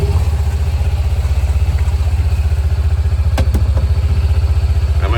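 A four-wheel vehicle with automatic transmission runs close by, its engine holding a loud, steady rhythmic idle-like throb with a few faint clicks and clatters, and no talking.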